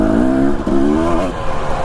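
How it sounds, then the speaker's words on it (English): A Husqvarna enduro dirt bike idles low and loaded up on a rocky Idaho mountain trail, its engine sputtering and stumbling into a bog, steady and close with no talk. "Even a good old Husqvarna will bog a little bit if you're idling along for too long."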